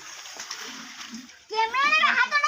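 Water is poured from a bucket into a tank holding pond fish, giving a steady splash that swells halfway through, and voices talk over it.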